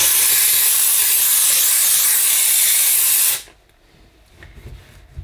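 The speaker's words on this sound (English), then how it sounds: "So I'll see what I can do with the steam" A Dupray Neat steam cleaner blasts steam onto kitchen hob burners in one loud, steady hiss lasting over three seconds, then cuts off sharply, leaving quiet room noise and faint handling bumps.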